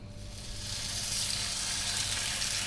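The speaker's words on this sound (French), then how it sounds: "j'ai mis une poêle à chauffer avec de l'huile de tournesol" Chicken patty mixture sizzles and crackles steadily in hot sunflower oil in a pan, a close and continuous frying hiss that swells slightly after the first moment, with no talking.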